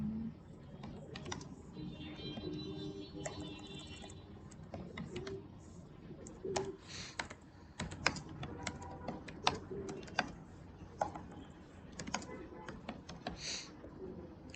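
Typing on a computer keyboard while writing HTML and CSS code, with steady close key clicks in irregular bursts, some louder taps, and a low room hum beneath.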